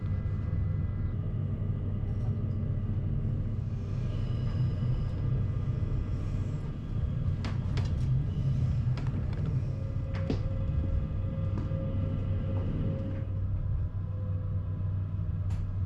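A steady low rumble and rattle of a Zentralbahn train rolling along the tracks between Luzern and Interlaken, with occasional clicks and squeaks from the carriage, no voices.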